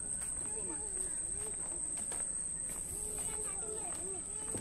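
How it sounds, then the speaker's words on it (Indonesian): Crickets chirp faintly with a steady high-pitched trill underneath in a mangrove forest, while people talk quietly in the foreground. "Ada suara apa namanya? Jangkrik ini. Suara-suaranya."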